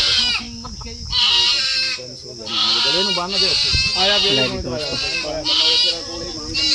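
Goats bleat repeatedly amid a busy crowd at a village goat market in Punjab, with people talking throughout and the calls rising over steady background chatter.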